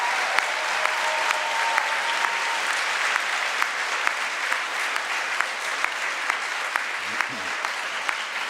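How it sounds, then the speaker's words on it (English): Sustained applause from an awards ceremony audience, steady clapping filling the room at moderate loudness with a few sharper individual claps standing out, no voices on top. "Let's give a big round of applause for all the individuals that I just mentioned."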